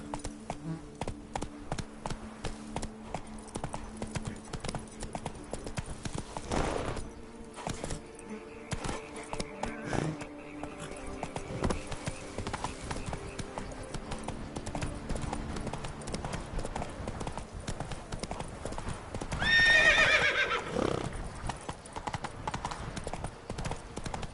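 Hooves of Roach, the horse in The Witcher 3, a steady rhythmic clip-clop at a trot, close and continuous, with game ambience underneath and a brief swelling sound near the end that could be a neigh.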